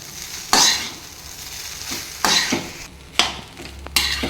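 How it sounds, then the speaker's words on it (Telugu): A spoon stirs fried egg rice in a hot pan, giving a steady sizzle broken by a few sharp scraping clanks against the metal, close and clear, with no talking. "రైస్ వేసుకున్న తర్వాత మొత్తం బాగా కలుపుకోవాలి."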